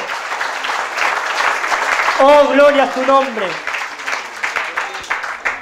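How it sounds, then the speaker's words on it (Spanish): A church congregation claps during a Spanish-language service, the applause running steadily throughout while a voice cries out a short phrase of praise over it, then scattered clapping continues. "Denle un aplauso al Señor."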